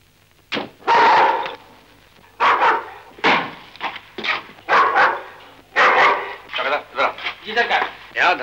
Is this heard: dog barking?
yes